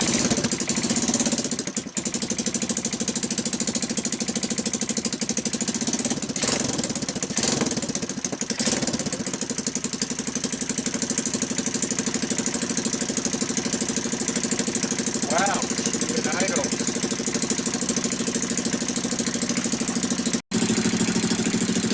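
A Kawasaki Bayou ATV with a Mikuni carburetor and choke on runs steadily at a rough, buzzing idle, close and loud throughout, with a few brief blips in the engine note and no talk.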